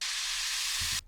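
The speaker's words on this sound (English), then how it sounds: "what I've done is grab a riser from this pack" A bright white noise riser hisses steadily and loudly for about a second, then cuts off abruptly.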